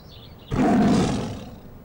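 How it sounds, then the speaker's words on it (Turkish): A big lion gives a single loud, close roar that bursts in abruptly after a quiet start, holding strong for a moment and then fading away, with no talking. "Kocaman bir aslanla aynı kafesin içindeler."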